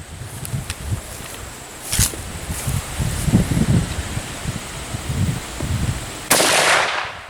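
Rifle gunshots ring out on an outdoor range: two sharp, loud cracks spaced several seconds apart over a background of wind and rustling.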